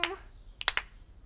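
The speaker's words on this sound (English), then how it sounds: "I want you to clap your hands with me as I snap my fingers" In a Caillou cartoon, a short burst of three quick snaps and claps rings out sharply after a brief child-like vocal sound at the start, all fairly quiet.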